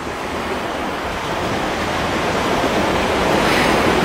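Ocean waves wash steadily onto a seaside beach, a continuous broad roar of surf and wind that stays loud and even throughout with no voices.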